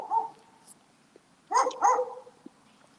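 A neighbor's dog barks from a short distance outdoors near a front porch: one bark, a pause, then a quick pair of barks, moderately loud against a quiet background.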